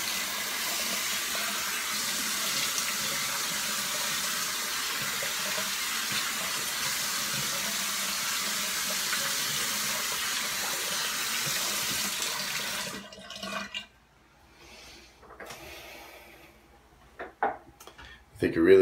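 A water tap runs steadily into a sink for about thirteen seconds while rinsing off after a shave, then stops, leaving a few soft clinks and handling sounds.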